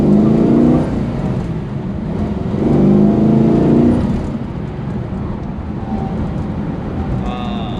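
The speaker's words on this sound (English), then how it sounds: "Helmick, great friend of Merritt Pennington, who owns this 68 Hemi 4-speed GTX" A big 1968 Hemi engine in a four-speed GTX muscle car rumbles at close range, swelling twice as it revs and accelerates, then settles into a steady lower drone.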